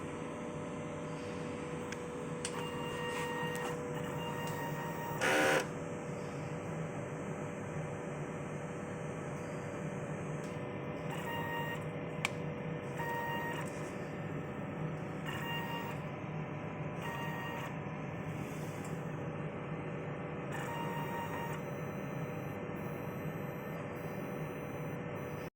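An inkjet printer runs a cleaning cycle on its weak cleaning mode, giving a steady mechanical hum with short repeated whirring bursts and one louder clunk early on, heard alone with no talk.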